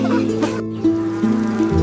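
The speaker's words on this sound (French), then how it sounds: "Les abeilles bourdonnent tranquillement partout." Bees give a steady, close droning hum with slight pitch shifts, continuous with no voices.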